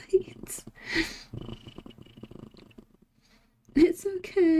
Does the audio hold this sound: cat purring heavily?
yes